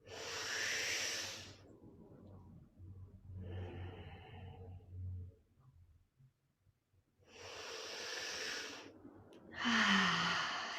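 Slow, deep yoga breaths, long airy inhales and exhales close to the microphone, separated by quiet pauses, with a louder breath at the end.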